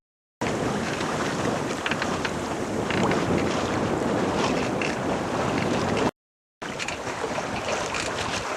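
A sailboat motoring under engine across an Irish bay in wind, with steady broadband rushing of wind buffeting and water noise, cut by a brief dropout before resuming.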